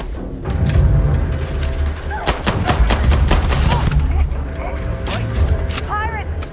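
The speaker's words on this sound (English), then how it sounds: "What are you guys shooting at?" Gunfire in the video game Starfield, loud repeated gunshots and rapid bursts cracking over a rumbling game background, with voices talking alongside.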